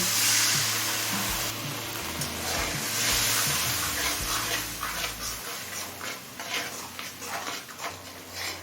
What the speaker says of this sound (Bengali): আর কিছুটা পরিমাণ দিচ্ছি জল